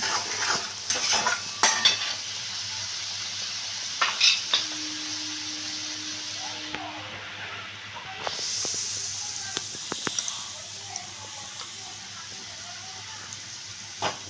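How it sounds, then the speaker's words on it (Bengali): Spice paste with salt being stir-fried in a pan for a mustard and poppy seed pomfret dish, giving a close, steady sizzle broken by repeated scraping and clinking strokes of a spatula. "মশলাটা আমি এইভাবে ভালো করে কষিয়ে নিচ্ছি"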